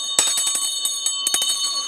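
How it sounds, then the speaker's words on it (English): A 125-year-old bell rung to call a congress session back to order gives a rapid series of bright metallic strikes with a sustained ringing tone, close and clear, with no talking over it. "I'm going to ring this up. Ring the bell."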